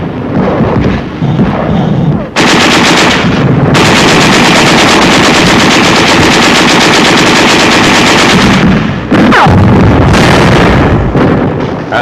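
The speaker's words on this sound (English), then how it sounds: "There is some machine gun fire and occasional shells," Sustained, loud machine gun fire in WW2 combat during a river crossing toward a city, with rapid bursts running almost continuously and brief lulls, heavy booms from occasional shells mixed in.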